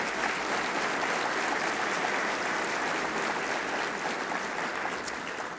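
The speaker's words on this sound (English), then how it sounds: "Let's give all these companies a round of applause for their support." A banquet crowd at a business chamber's annual dinner gives a long, steady round of applause, dense and evenly sustained, tapering slightly at the end.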